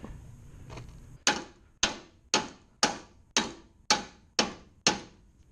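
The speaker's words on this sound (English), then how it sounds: "So now we're going to hammer this forward" Hammer blows driving the front end of a 2007-2013 Mini Cooper R56 forward during alternator replacement: eight sharp metallic strikes at a steady, roughly half-second rhythm, each ringing briefly, loud and close.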